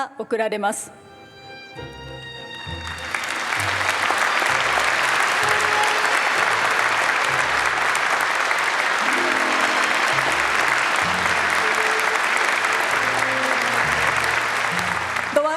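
A large audience applauds at the Japan Prize presentation ceremony, swelling after a brief pause into loud, sustained clapping that fills the hall, while low musical tones play underneath.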